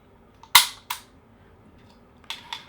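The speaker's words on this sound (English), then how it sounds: "Let's do safety check. That slide is butter smooth." A Jericho 941 pistol fitted with LOK grips has its slide racked for a safety check, giving two sharp metallic clacks close together, followed a moment later by softer mechanical clicks.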